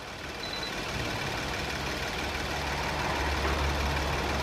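Car engine idling during a warm-up on a very cold day, a steady low hum and drone that holds evenly throughout with no talking.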